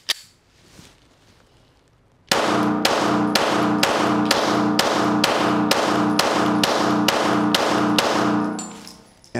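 A Springfield Armory Hellcat pistol fires a rapid magazine dump of about thirteen evenly spaced, loud, close shots in a steady rhythm, then stops abruptly.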